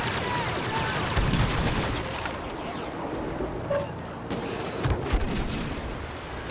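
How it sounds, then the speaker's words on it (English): Pistol shots in a video game, set against a constant rumbling wash of battlefield noise, with a few short sharp cracks standing out and faint game voices underneath. "I can't get someone on 100 health down with a pistol."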